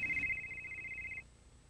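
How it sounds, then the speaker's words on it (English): A 1994 Motorola Cellular Deluxe Portable Phone sounds its ringer: a steady, shrill electronic tone held for about a second, then cut off, heard close and alone. "You can also adjust the phone's ringer to receive incoming calls."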